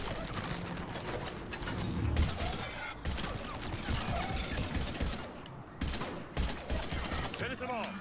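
Rifle gunfire in the video game Mass Effect 3, rapid bursts of shots cracking almost continuously over eight seconds, loud and dense, with brief gaps and in-game combat noise mixed in.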